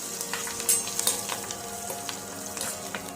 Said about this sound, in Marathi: यानंतर आपण यामध्ये थोडीशी कोथिंबीर घालून घेऊ। कोथिंबीर पण छान अशी परतवून घेऊ।